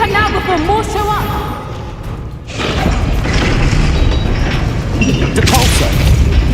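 Bombarda explosion spell cast in the Hogwarts Legacy video game, a sharp blast midway followed by rumbling debris and magical effects, with game voices and music continuing around it.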